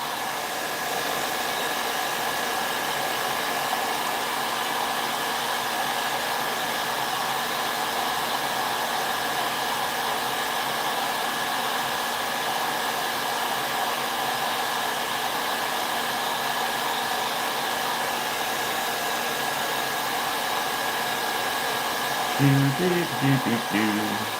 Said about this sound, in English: while I dry this miniature off